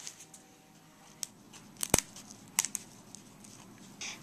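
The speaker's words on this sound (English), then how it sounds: "use scissors to cut across the hollow shaft at an angle towards the" Scissors snip across the hollow shaft of a feather quill, giving a few sharp, quiet clicks and crunches, one crisp cut standing out from faint rustling and background hiss.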